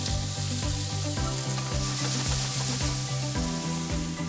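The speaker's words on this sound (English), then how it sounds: "Some salt, pepper, and onion, which we have to fry." Onion sizzling steadily in a frying pan for potato and cream cheese pierogi filling, a constant close crackle, with faint rhythmic stirring or scraping underneath.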